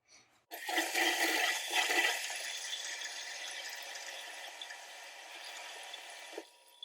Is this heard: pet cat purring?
no